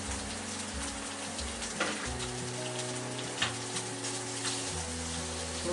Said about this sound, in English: Finish making some fried rice.